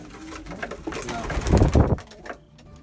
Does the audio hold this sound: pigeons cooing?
yes